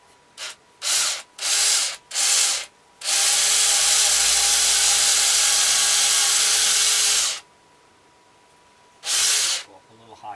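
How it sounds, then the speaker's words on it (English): A power drill bores into the wood of a hand-carved wooden ventriloquist dummy in short bursts, then runs in one long steady whine for about four seconds, followed by quiet and a final brief burst. "So we're going to drill a hole in here."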